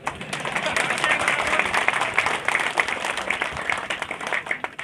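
Applause and clapping from a crowd at a Congress political rally in Bidasar, Laxmangarh, Sikar, addressed by state party president Govind Singh Dotasra; dense, steady clapping fills the scene with scattered voices mixed in.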